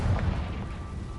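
A Confringo blasting spell bursts in Hogwarts Legacy, a short, low, muffled boom that fades quickly.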